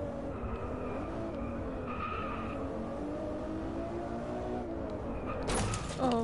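Tyres skid and squeal continuously as a car spins doughnuts on pavement in Driveclub VR, with a steady engine note under the screech and a louder scrape near the end.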